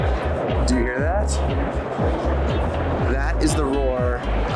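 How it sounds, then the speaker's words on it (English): Loud crowd roar filling a Magic: the Gathering convention hall in Las Vegas, a dense wash of many voices with rhythmic thumping underneath and a nearby voice talking over it. "That is the roar of entering the convention hall."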